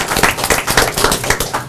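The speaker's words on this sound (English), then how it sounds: "One more round of applause for Mr. Villarreal." Brief applause at a city council meeting in Brawley, a moderate patter of clapping hands from a small audience, steady through the short moment.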